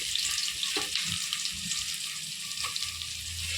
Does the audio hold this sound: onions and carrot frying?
yes